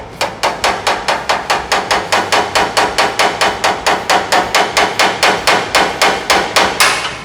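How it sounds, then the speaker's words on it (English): Hammer tapping on the sheet-metal body of a C10 truck to work out a dent: about two dozen sharp, evenly spaced metallic strikes in a fast, steady rhythm, close and loud with no talking. "take this hammer and tap right here while I'm pulling out."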